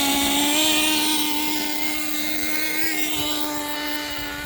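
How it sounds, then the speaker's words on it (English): Nitro engine of a Hyper 7 RC buggy revving gently on light throttle, a loud, buzzing whine that rises and falls slightly and then eases off, heard up close with no speech. "That's me pulling the throttle a little bit, making sure it doesn't stall."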